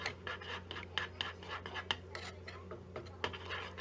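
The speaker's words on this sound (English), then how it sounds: "You have to constantly stir." A spoon scrapes and rubs repeatedly against the bottom of a pan while stirring a thick brigadeiro chocolate candy mixture over medium heat, in quick irregular strokes under a low steady hum.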